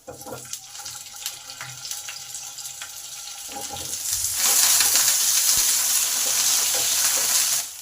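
Potatoes tipped into hot oil in a pan: quieter frying and clatter at first, then a loud, steady hiss that swells midway and continues to the end.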